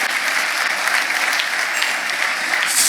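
A church congregation applauds the Lord during a worship service, an even, sustained wash of clapping from a large crowd, steady and fairly loud without speech over it.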